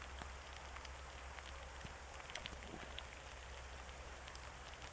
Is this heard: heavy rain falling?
yes